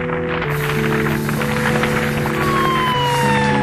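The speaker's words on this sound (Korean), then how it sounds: "사방에서 요란한 사이렌 소리가 들려왔습니다" Wailing fire engine sirens rise and fall continuously, loud and overlapping, with several tones sweeping at once amid busy street noise near a burning high-rise shopping building.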